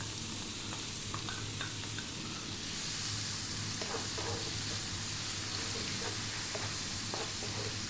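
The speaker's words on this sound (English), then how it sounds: "We're now going to drop in our onion." Onion frying over lively high heat with whole spices for a Bahraini fish curry, a steady broad sizzle with light stirring and scraping clicks, close and continuous with no talking.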